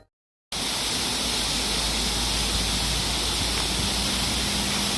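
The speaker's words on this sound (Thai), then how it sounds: "ที่นี่น้ำตกบุญยาบาจังหวัดระนองอำเภอเมืองระนองนะครับ" Punyaban waterfall in Ranong, Thailand roars as a constant broadband rush of falling water, loud and unbroken after a brief silent start.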